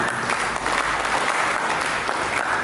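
A church congregation applauds during a sermon, a dense, steady wash of many hands clapping together that holds evenly from start to finish with no voices over it.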